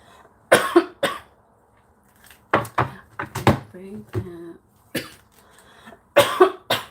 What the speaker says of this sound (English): I didn't mean to be coughing all in your ear